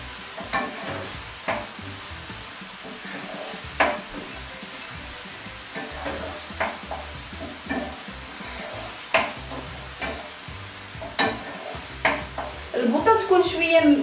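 Chicken pieces stir-fried in a pan for Chinese-style noodles give off a soft sizzle broken by repeated scraping and stirring strokes, with a clink of utensil on the pan near the end.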